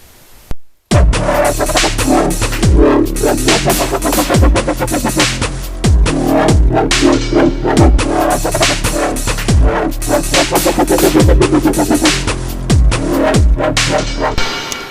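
Heavy synthesized dubstep wobble bass made in FL Studio throbs in rhythmic sweeps over a steady pounding beat, loud and continuous after a brief pause at the start.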